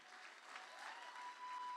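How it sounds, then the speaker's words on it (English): Audience applause at a children's aid benefit event, steady dense clapping from a crowd throughout, fairly distant and even. "Can we get one more round of applause for Emmanuel?"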